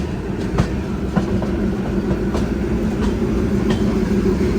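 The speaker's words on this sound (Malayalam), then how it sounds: "മംഗളൂരു സെൻട്രൽ റെയിൽവേ സ്റ്റേഷനിലേക്ക് ഇതാ നമ്മുടെ ട്രെയിൻ എത്തിക്കൊണ്ടിരിക്കുകയാണ്." A train rolls into Mangaluru Central railway station at platform 4, giving a steady loud rumble with periodic wheel clicks over the rail joints throughout.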